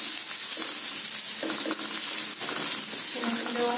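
Chopped onion sizzles steadily in hot oil in a pan, with a constant crackling hiss and a few clinks or stirs, while a voice speaks faintly underneath.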